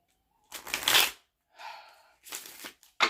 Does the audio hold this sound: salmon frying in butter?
no